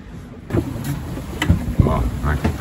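A sailboat's engine drones steadily on an Atlantic crossing, a continuous motor rumble with scattered knocks and faint voices over it.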